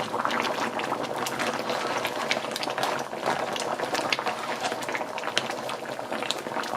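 Lobster claws with potato bubble steadily in a thick curry sauce, a close, continuous simmering burble with small pops and no voices.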